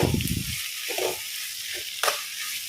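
Fenugreek seeds sizzling in hot oil for a fish curry, a steady bright hiss of frying with a few soft stirring or spoon sounds and a brief louder crackle midway.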